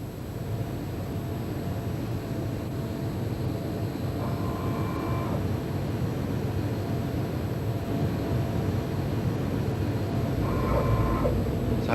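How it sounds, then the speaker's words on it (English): A Noble Air Boeing 747 approaches to land at an airshow over Wood Lane, a steady broad roar of jet engines holding at constant loudness throughout, with faint tonal whines rising briefly now and then. "here comes Noble Air's very own 747 attempting to do a quite hairy landing"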